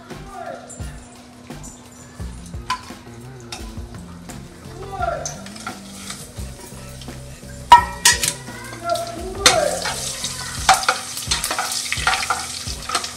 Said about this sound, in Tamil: இப்போ நம்ம தாளிக்கலாம்.